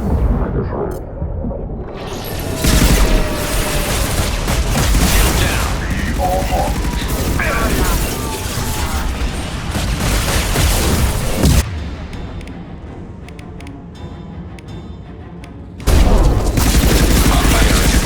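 Gunfire in Mass Effect 2 aboard the Collector vessel rattles in dense, continuous bursts with booming impacts, dropping briefly to a quieter stretch before heavy firing resumes.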